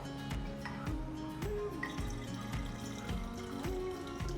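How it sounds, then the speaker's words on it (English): Water poured from a tap into a bottle while mixing a household cleaner with a dollop of Thieves cleaning concentrate, a steady filling rush with bubbling gurgles and a rising pitch as the bottle fills, close and continuous. "And then I add water."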